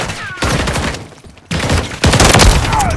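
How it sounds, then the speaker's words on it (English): Gunfire in the video game Call of Duty: Modern Warfare III: loud, close bursts of rapid automatic shots in two main volleys with a brief quieter gap between them, under a constant battle din. "Taking effective fire!"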